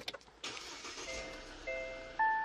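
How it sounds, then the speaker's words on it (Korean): Engine of a 2020 large SUV cranking and catching, a brief starter whir followed by a steady idle with a thin electronic chime tone layered on top, close and moderately loud with no talking. "일단 시동부터 걸어보도록 하겠습니다"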